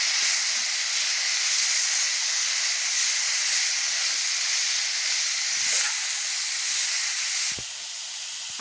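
Mixed vegetables with cabbage stir-fry over a high flame, giving a steady, loud hiss that runs unbroken throughout, with a few faint knocks and a slight drop in level near the end.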